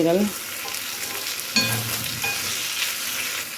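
Chicken liver frying in hot oil, a steady close sizzle with a scrape of stirring near the start and another clatter partway through, no talking.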